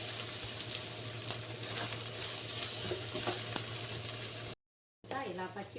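Chicken fried rice stirred in a hot pan with salt and turmeric; a steady close sizzle with scraping stir sounds runs throughout, cutting out briefly near the end as a voice begins speaking.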